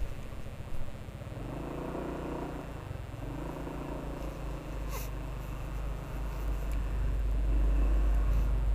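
A Honda PCX 150 scooter engine idles and runs steadily, a low continuous hum that rises slightly toward the end, close by with no talking.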